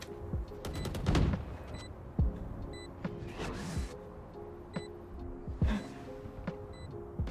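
Gunshots ring out in Valorant, several sharp single and short-burst shots spaced a second or two apart over a steady low game hum, with small chimes from the interface.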